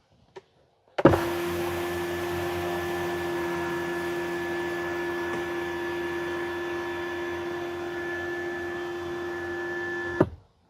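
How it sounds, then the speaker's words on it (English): Tesla Model Y power sunshade motor closing: a steady whirring hum with a high whine, starting with a sharp click, running evenly for about nine seconds and stopping with another click, close and moderately quiet. "Pushing the close button once, brings the sunshade all the way forward."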